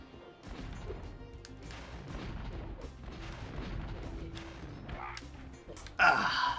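TNT barrels blow up in the PS1 game Spyro 2: Ripto's Rage, a series of booming crashes and thuds spread across the stretch, with a sharper, louder burst near the end.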